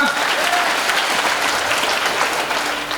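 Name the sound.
crowd applause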